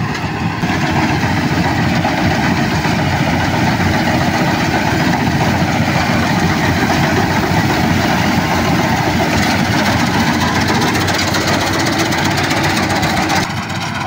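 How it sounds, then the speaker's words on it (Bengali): A rice harvesting machine's engine runs continuously in a paddy field, a loud, steady close-up drone with a knocking, clattering texture throughout. "এটা হলো এই ধান কাটা মেশিন"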